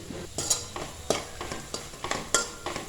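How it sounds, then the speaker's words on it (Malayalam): Spices such as fenugreek and asafoetida powder stirred in a pan over a low flame for Kerala beef pickle, with a soft sizzle under repeated scraping strokes of a spoon, close and moderately quiet. "ഇപ്പോൾ ഇതാ ഞാനൊരു 2-3 മിനിറ്റ് ലോ ഫ്ലെയിമിൽ വെച്ച് നന്നായിട്ടൊന്ന് ഇളക്കി കൊടുത്തിട്ടുണ്ട്"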